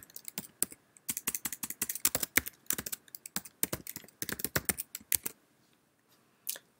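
Rapid, uneven bursts of clicking keystrokes on a computer keyboard while a password is entered, close and fairly crisp, pausing briefly before one last tap.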